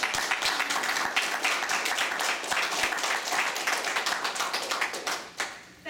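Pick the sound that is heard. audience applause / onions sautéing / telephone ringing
audience applause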